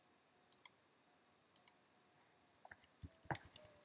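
Computer keyboard keys pressed one at a time, soft close clicks in sparse pairs at first, then a quicker cluster of taps toward the end, in a quiet room.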